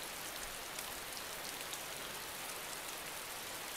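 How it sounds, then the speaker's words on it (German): Steady rain falls in the DayZ Standalone survival game, a dense, constant hiss of drops on surfaces that holds evenly throughout with no speech over it. "Und es regnet."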